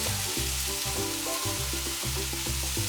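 Cumin seeds and spices fry in a pan for a vegetarian potato, carrot and pepper tajine, a loud, dense sizzle with rhythmic stirring knocks throughout.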